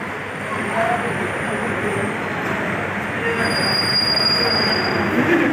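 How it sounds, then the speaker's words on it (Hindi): A train pulls into an Indian station on the way to Bhalukpong, with steel wheels squealing in high, drawn-out tones over a constant rolling rumble, and faint voices in the background. "गैस फाइनली हमारा ट्रेन पहुंच गया।"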